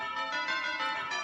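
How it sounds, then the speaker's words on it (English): Broadcast chimes before a commercial break during a sports talk show: a sustained bell-like tone with layered, evenly ringing harmonics, loud and alone for about a second. "I played the initial chimes"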